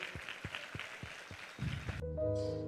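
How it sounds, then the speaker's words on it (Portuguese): A church congregation claps in a slow, regular beat, fairly soft and distant, before organ-like music swells in and takes over. "Aplauda ao Senhor."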